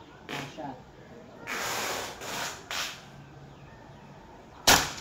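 A CO2 air gun firing at a 7-meter target, a short sharp crack near the end, preceded by softer hissy bursts and handling noise, close and fairly loud.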